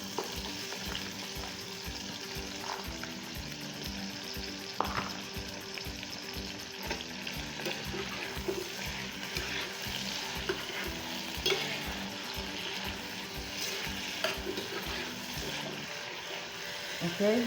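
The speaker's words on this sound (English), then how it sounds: "Now I'm going to add my okra." Okra stirred into a simmering coconut fish head soup, a steady close bubbling and stirring with soft sizzle throughout, light scraping strokes repeating under faint background voices.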